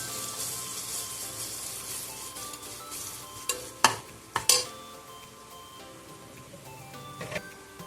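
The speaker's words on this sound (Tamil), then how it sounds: "அதில் ஒரு 3 நம்பர் பச்சை மிளகாய் அதையும் நல்லா வதக்கிக்கோங்க" Green chillies sautéing in a pan for Chennai-style chicken biryani, a steady sizzle with stirring scrapes and a few sharp clatters near the middle, close and fairly quiet, no talk.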